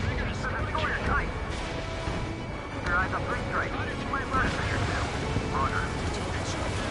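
Aircraft cannon and missile fire in the combat flight game Ace Combat 7, a busy rumbling mix of jet roar, bursts and launches under radio chatter and voices.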